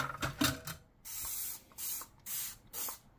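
Dawn Ultra Platinum Powerwash dish spray misted from a distance in four bursts, each a soft hissing spray about a third to half a second long with short gaps, after a few faint clicks and handling noises.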